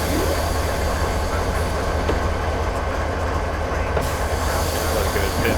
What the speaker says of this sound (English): use a train brake on this since it slows down the entire train fairly quickly